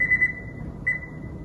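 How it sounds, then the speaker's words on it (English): An oven timer beeps in a home kitchen: a quick cluster of short, clear electronic tones, then a pause and one more brief beep, all close and fairly loud over a faint room hum. "The more beeps you get, the better it is"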